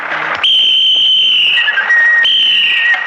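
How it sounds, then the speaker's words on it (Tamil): Shrill, sustained whistle blasts in a Tamil comedy film scene: two long, piercing tones, the first held for about a second and the second shorter, loud and close against a noisy background. "எங்களுக்கு தெரியும் எங்க எப்போ எப்படி விசில் அடிக்கணும்னு"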